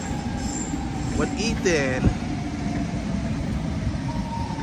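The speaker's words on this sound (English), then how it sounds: "there go that train" A Union Pacific freight train rolls past the Richmond Amtrak station with a steady low rumble and a brief wheel squeal, heard from the platform at moderate distance while someone speaks briefly.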